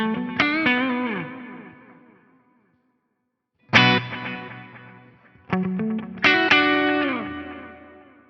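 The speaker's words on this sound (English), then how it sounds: "have a listen to the delay trails as they feed into the reverb." Guitar played through a Fractal FM3 with delay feeding into reverb: three separate strummed chords, each followed by long echoing repeats and a lush reverb tail that fades to near silence before the next chord.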